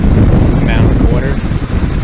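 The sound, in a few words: strong wind blowing at a dam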